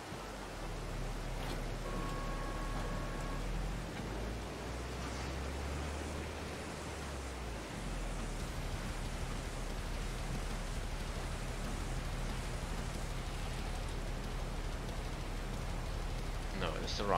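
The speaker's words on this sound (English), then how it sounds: "Oh, it's raining!" Steady rain in the farming video game Farming Simulator 22, a dense, even hiss of falling water that fills the whole stretch, with a faint low hum beneath.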